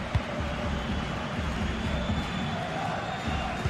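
Stadium crowd in a football video game during a Barcelona match, a steady dense roar of many voices with some low thumps, continuous throughout and fairly loud.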